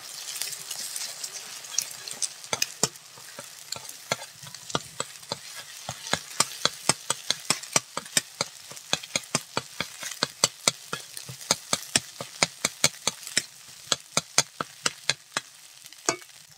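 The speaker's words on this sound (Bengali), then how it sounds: "ডিমটা ঝুরো ঝুরো করে নেব" Scrambled egg being stirred and fried in a pan, a steady soft sizzle broken by sharp, quick scrapes of the spoon against the metal in an uneven, busy rhythm.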